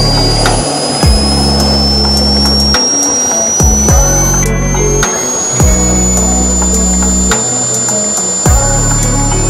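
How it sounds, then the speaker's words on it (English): A small jet engine rated at 50 pounds of thrust, mounted on a dolly, runs close and loud. Its piercing high whine climbs slowly in pitch, while deep throbbing pulses repeat underneath. "This is my new jet engine. How are you guys doing? It makes 50 pounds of thrust."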